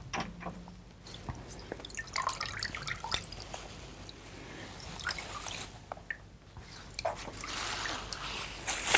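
Small, scattered drips and splatters of water from a wet hot towel, soft and close, falling irregularly with faint handling noises between them.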